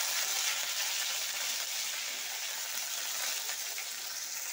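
Chopped onions sizzle in hot mustard oil in a wok seasoned with a bay leaf, a dried red chilli and whole cumin, giving a steady, fairly loud hissing crackle that fades slightly without any talk.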